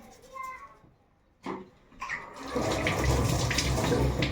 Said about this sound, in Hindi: चाकू मैंने धो के रख दिया है।